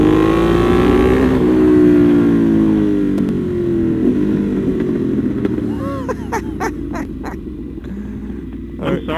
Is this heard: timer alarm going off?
no